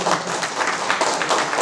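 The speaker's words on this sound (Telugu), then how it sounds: "చప్పట్లు కొట్టున్నాను" Dense, steady clapping from a crowd giving applause, a continuous rustling patter lasting throughout with no voices standing out.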